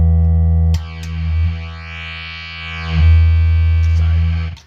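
A Casio MT-65 keyboard played through an SQR-ONE distortion pedal gives a loud, buzzy, sustained synth drone with sweeping filtered tones rising and falling over a few seconds, alone with no talk.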